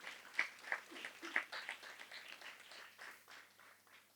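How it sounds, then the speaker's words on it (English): Applause from an audience welcoming a guest speaker from Delhi, heard as a soft, fairly distant patter of clapping that swells in a few bursts and then thins out. "A round of applause for Mr."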